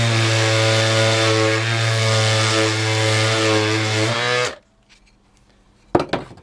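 A Dewalt DCW210 random orbit palm sander whirs steadily and close for about four and a half seconds, then shuts off, leaving quiet with a few light clicks and handling knocks.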